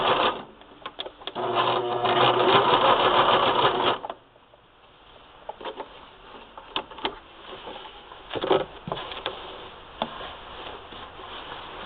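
A sewing machine stitching a spool-knit yarn rug runs in a loud steady whir for about four seconds, then stops, followed by quieter handling clicks and taps as the fabric is shifted.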